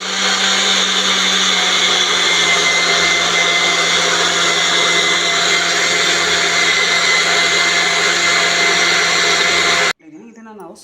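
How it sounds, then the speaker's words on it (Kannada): A blender whirs loudly and steadily for about ten seconds while blending a healthy fruit drink, then cuts off abruptly, leaving a brief quieter tail. "ಇದು ತುಂಬಾ ಸ್ವಲ್ಪ ಬ್ಲೆಂಡ್ ಮಾಡಿದ್ಮೇಲೆ"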